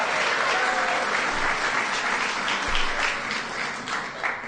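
An audience at a White House Pride Month celebration gives a big round of applause, steady and continuous throughout with a few brief swells in the crowd's clapping.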